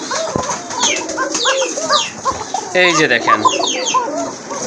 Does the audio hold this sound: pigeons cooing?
yes